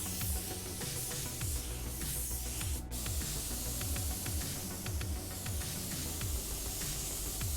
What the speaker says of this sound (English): Notice how I am applying my base paint wet and consistent.